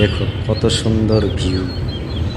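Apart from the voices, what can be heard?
birds chirping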